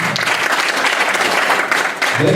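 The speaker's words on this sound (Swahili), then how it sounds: "Makofi." Audience applause at a public meeting of farmers, a thick steady roar of many hands clapping, loud and continuous, with a voice briefly emerging at the very end.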